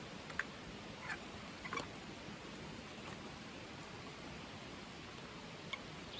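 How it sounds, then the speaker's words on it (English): A river flows steadily in the background outdoors, a soft continuous broadband wash with a few faint rustles or ticks on top, fairly quiet and distant. "You can hear a river in the background."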